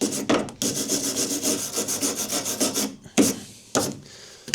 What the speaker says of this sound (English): First of all, just give it a little bit of a rub down to actually see where the bolts are.